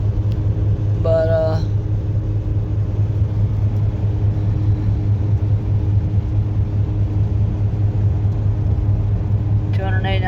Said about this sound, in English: Let it idle for about 10-15 minutes.